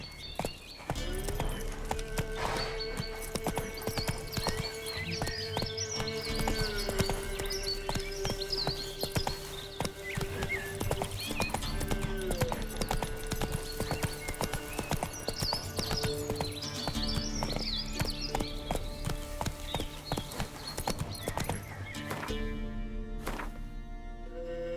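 Roach the horse gallops in the video game The Witcher 3, a continuous rhythmic clip-clop of hooves layered with game music and ambient chirps from start to finish.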